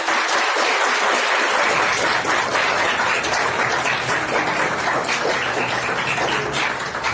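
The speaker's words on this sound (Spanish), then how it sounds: "Aplauda al Señor." A church congregation claps for the Lord during a service, sustained, crowded applause that runs evenly the whole time, fairly close and full, with no speech over it.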